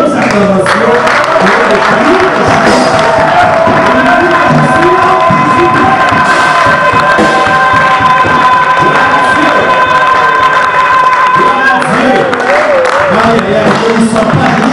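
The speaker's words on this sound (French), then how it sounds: "Est-ce que tu peux nous donner encore de bonnes acclamations?" A church congregation cheers, shouts and claps in loud acclamation, a dense roaring crowd sustained throughout with some higher children's shouts and a tonal instrument sounding underneath.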